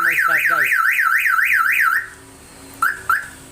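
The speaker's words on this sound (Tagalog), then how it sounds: "Mo active ang ato ang siren." A universal car alarm siren tested on a table, blaring loud and close with a rapid warbling up-and-down wail for two seconds, then cutting out, followed by two short chirps.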